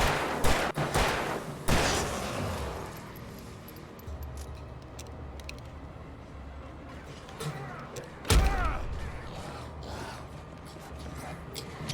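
A flashbang grenade goes off in the Alan Wake video game amid sharp gunfire bursts, with one loud deep blast late on and clattering mechanical effects between shots.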